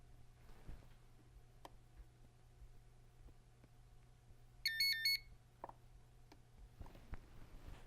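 A Modularm 75LC alarm being tested gives a brief burst of rapid high electronic beeps over a quiet background hum with faint ticks and clicks.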